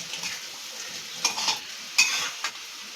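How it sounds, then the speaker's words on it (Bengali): Kalmi greens (water spinach), wet with their own released water, are stirred in a pan while frying. A soft, steady sizzle runs throughout, and a few sharper scrapes of the spoon on metal stand out near the middle. "আমি ভালো করে আবারও মিশিয়ে দিচ্ছি।"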